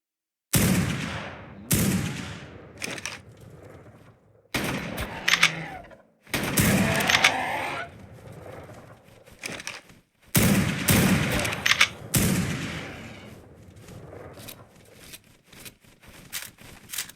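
Sniper gunfire in the video game ARK Survival Ascended rings out as a series of loud, sharp shots with long decaying echoes, spaced irregularly over several seconds with brief silences between.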